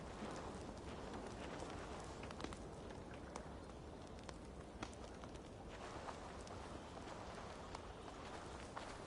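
Horse hooves clip-clop in Assassin's Creed Valhalla, a faint, steady patter of footfalls over a constant background hiss, with no talk.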